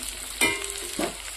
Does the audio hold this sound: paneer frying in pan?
yes